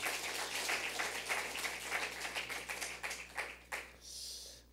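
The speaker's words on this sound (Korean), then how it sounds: "박수로 한번" Church congregation applauding during a Sunday worship service, steady dense clapping for about four seconds that thins and fades toward the end, moderately faint and without talk.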